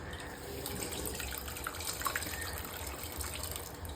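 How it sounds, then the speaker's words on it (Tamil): Tamarind water being poured into a rasam pot with tomato and asafoetida, a steady close trickling gush running unbroken and fairly quiet, with no voices. "புளி தண்ணி ஊற்றிட்டு கரைச்சிக்கலாம்."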